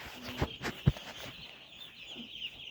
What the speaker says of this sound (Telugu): ఇది మా కోళ్ళ ఫారం.